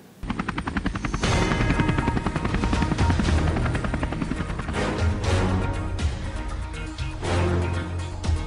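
A helicopter in a video game physics simulation drones loudly and steadily, its rotor chopping in a fast rhythmic pulse throughout, with a slightly synthetic, game-like quality.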